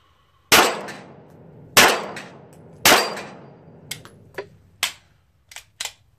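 A 1911 pistol fitted with a test striker spring fires factory ammunition: three loud, sharp reports spaced about a second apart, followed by several quieter metallic clicks and clacks of handling, close up with no talk.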